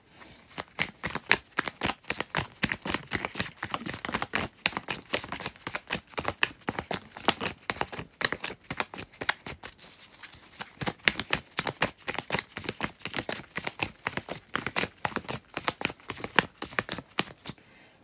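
Tarot cards shuffled by hand in long riffling runs, a rapid crisp flutter of card edges repeated continuously at close range, with brief pauses between bursts.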